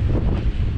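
Strong wind buffets the microphone at a seaport on the Baltic Sea, a loud, steady roar of gusts with no voices.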